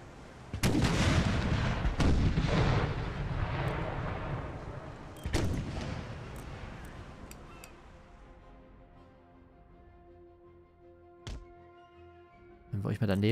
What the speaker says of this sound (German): habe gerade gefühlt die ganze Salve ins Wasser gesetzt.